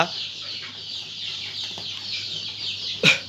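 Chicks and hens at a hatchery raising Silky chicken chicks, giving a steady bed of high cheeping and clucking throughout, with one sharper, louder call near the end.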